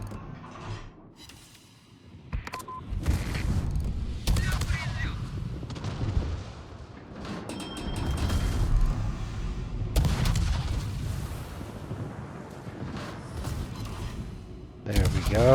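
Naval gunfire shelling the ship Hindenburg in a warship video game, repeated heavy booming salvos with mechanical clanks and rumble, loud and close, with a voice talking over parts of it.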